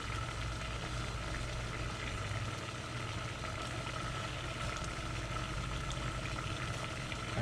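A substance heating on high heat in a science experiment, giving a soft continuous sizzle with a low steady hum beneath, quiet and unbroken throughout.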